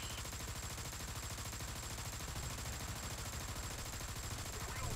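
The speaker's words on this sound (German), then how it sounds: "ich schieße gerade ein Maschinengewehr" Rapid, continuous machine-gun fire from a Tiger tank in the War Thunder video game, a dense, evenly pulsing stream of shots held at a steady level throughout.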